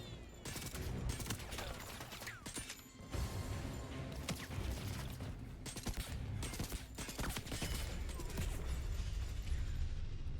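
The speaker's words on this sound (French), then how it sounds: "Qui c'est qui me tire dessus encore?" Bursts of gunfire aimed at the player in the video game 007 First Light, sharp repeated shots with mechanical clanks, fairly loud and dense in clusters.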